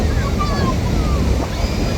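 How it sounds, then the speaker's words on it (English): Wind and ocean surf roll steadily at a public beach on a cool, windy, overcast day, a continuous broad wash of breaking waves and gusts buffeting the microphone, with faint distant voices mixed in. "Pretty cool and windy day though for the beach."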